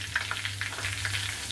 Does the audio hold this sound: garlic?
yes